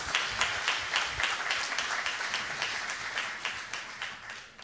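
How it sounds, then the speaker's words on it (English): Audience applause at a church service, steady crisp clapping from a modest crowd that gradually tapers off over a few seconds, moderately near with no talking over it. "give him a round of applause"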